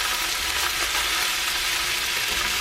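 Leftover rice frying in a pan, a steady, dense sizzle that holds evenly and loud throughout without pauses.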